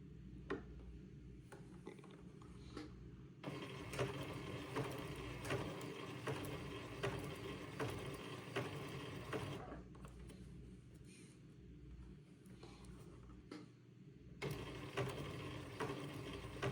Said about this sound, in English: And then I will begin to zigzag this lace to the entredo.